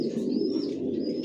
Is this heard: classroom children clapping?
no